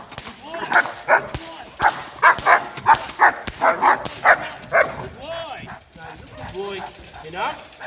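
A dog in protection training barks aggressively in a rapid run of loud, close barks and yips, then breaks into whining and softer whimpers, with a voice speaking over part of it.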